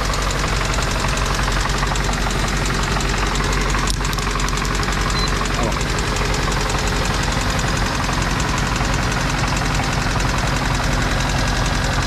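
A car engine with a knocking fault idles steadily nearby, a continuous rough mechanical drone with rapid knocking running through it and no voices.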